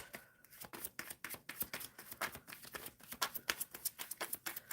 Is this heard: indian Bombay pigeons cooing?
no